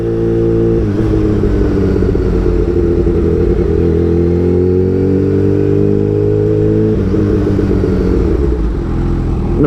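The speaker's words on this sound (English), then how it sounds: "The way the supercharger spools up, oh my good God. And it's all, it sounds so weird." A supercharged Kawasaki Ninja H2 motorcycle engine pulls hard under acceleration, a loud, close, sustained drone that climbs steadily in pitch, drops briefly as the gear changes, then rises again.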